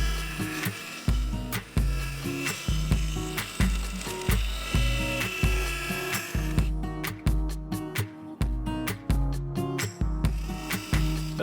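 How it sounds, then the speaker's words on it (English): Yew wood turns on a lathe while gouges and a skew shape it, giving a steady rhythmic scraping and thumping that repeats about once per second for the whole stretch, loud and close with no speech. "Using both gouges and the skew, I continued refining the shape"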